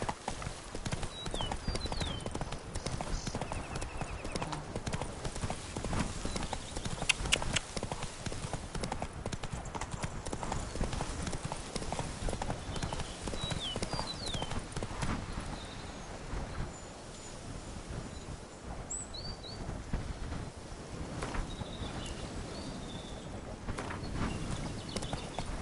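Roach, the horse in The Witcher 3, gallops steadily with continuous close hoofbeats and a dense game ambience, with no pause for the whole stretch.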